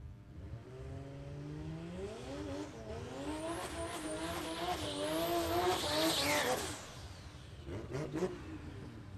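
A nitro funny car at Palmyra Dragway roars down the strip, its engine note wavering and surging as it fights for traction, tires squealing, then the sound drops away into a distant rumble.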